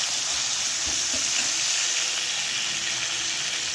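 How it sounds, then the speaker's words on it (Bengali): Onions frying in hot oil for a Bengali katla kaliya, a steady bright sizzle that holds evenly throughout at close range, with faint stirring noises underneath and no voices. "আর এখানে তেল গরম হচ্ছে, এর মধ্যে আমি পেঁয়াজটা দিয়ে দিচ্ছি"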